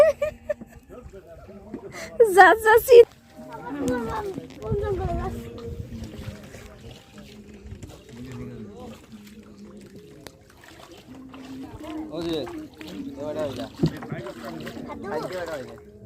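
Boats moving through muddy water at Ratargul swamp forest in Sylhet, with faint water sounds and splashes under frequent talking from people aboard.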